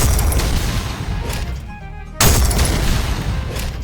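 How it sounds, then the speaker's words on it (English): An explosion triggered by punching a fired shotgun round in the ULTRAKILL video game: a loud, booming blast that cuts in sharply after a short lull and drowns out the dense game noise around it. "You can punch your shotgun bullets in Ultrakill to make explosions."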